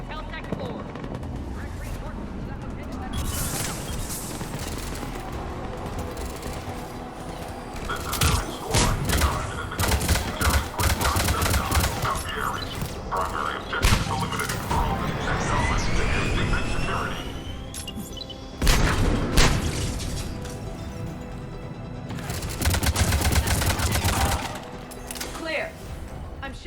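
Battle gunfire in Mass Effect 3: repeated sharp shot bursts and rattling volleys across the whole stretch, loud and dense, with explosive booms and a sweeping whine layered in, while voices talk over the combat.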